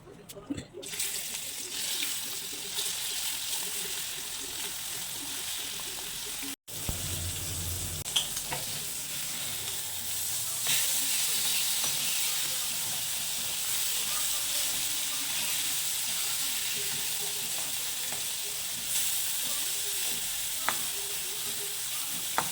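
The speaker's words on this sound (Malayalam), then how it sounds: "ചെമ്മീൻ വറുത്ത് കുറച്ച് വെളിച്ചെണ്ണ ഒഴിച്ച് ചെമ്മീൻ കൂടി വറുത്തേക്കാം" Prawns fry in coconut oil with a continuous, moderately loud sizzle and bubbling hiss, broken by a brief cut partway through and the occasional stirring clatter.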